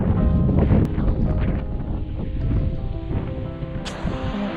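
Strong wind buffets a windy coastal campsite near a lighthouse, a loud continuous roar with gusty rumble and flapping, steady throughout and close to the microphone, with no voices.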